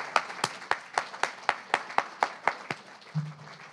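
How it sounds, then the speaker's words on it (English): An audience gives a round of applause after a poetry reading by Matthew Zapruder, a steady run of about a dozen distinct claps, fairly close and moderate in level, with no talk over it. "One more round of applause for Matthew Zapruder"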